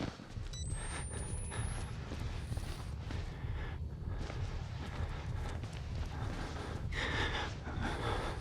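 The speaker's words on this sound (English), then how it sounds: "Miles' panic breathing is also a nice touch." Ragged panicked breathing from the character Miles in the horror game Outlast, close and steady with sharp gasps and snorts over a low rumbling game background.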